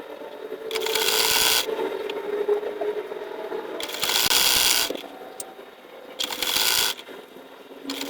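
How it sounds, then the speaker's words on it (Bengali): A sewing machine stitches a single fold of fabric to hold a salwar's elastic, running in three sustained bursts of rapid mechanical chatter separated by short pauses, close and loud with no talking. "আমি সোজা বরাবর রাবারটা লাগানোর জন্য প্রথম 1 ভাঁজ করে সেলাই করে নেব"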